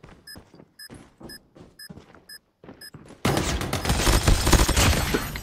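Video game gunshots crack out in a burst of loud, dense firing that erupts abruptly after a stretch of sparse, quieter in-game sounds with repeated tonal beeps.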